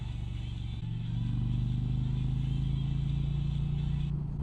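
An Indian Challenger motorcycle engine drones at high revs in sport mode on the Blue Ridge Parkway. The steady tone swells louder after about a second and holds, with a faint wind-like hiss.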